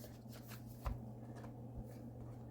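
A tarot card deck being side shuffled by hand, giving soft papery slides and a couple of light taps, quiet and close with no talking.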